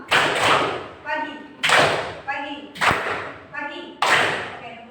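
Junior high pupils in a classroom clap together in a clapping game, crisp single group claps repeating several times, each followed by the teacher talking.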